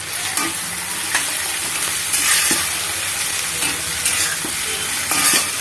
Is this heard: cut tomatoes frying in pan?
yes